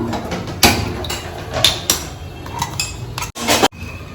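A steel pot is set down on a stove in a home kitchen while chicken curry is prepared, producing several sharp metallic clanks and clinks, loud and close, with scraping between them.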